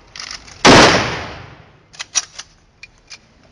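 A ceremonial rifle volley fires at a Czech funeral, a single sharp, loud crack that echoes and fades over about a second, followed by scattered faint metallic clicks of rifle bolts.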